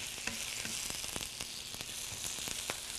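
Korean beef sizzles steadily in a hot pan while scallions and sauce are stirred through it, with a constant close frying hiss broken by repeated soft scrapes and clicks of the utensil against the pan.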